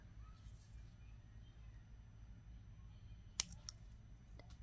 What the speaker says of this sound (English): now we want to cut this extra cord off here